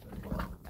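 Puppies on an outdoor deck give a brief, close whimpering whine with soft low grumbles, steady and moderately loud throughout the short moment.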